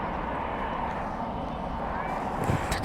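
A British Airways Airbus A380 passes at night at Dallas/Fort Worth International Airport, its steady broadband engine roar sustained and moderately loud from start to finish.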